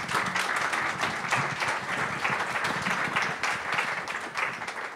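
Audience at a conference applauding four panelists, a steady wash of clapping from a moderate-sized crowd lasting the whole stretch.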